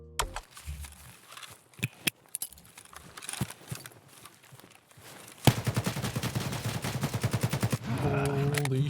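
A firefight in the video game Escape From Tarkov: scattered gunshots and clicks, then a grenade burst followed by sustained rapid gunfire. The shots sound close and loud.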